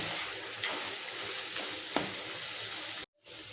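Mutton pieces and cashews sizzle steadily in a pan while being stirred, with a couple of sharp scraping knocks, before the sound cuts out abruptly and resumes briefly.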